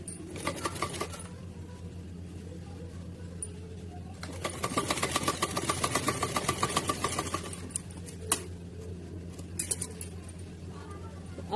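Sewing machine stitching a fabric frill for a small devotional dress, running in a steady rapid mechanical rhythm with short pauses and a few light clinks.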